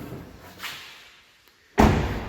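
The rear door of a Citroen C5 X7 with a broken hinge detent swings with a soft creak, then slams shut in a single loud, close thud after a quiet pause.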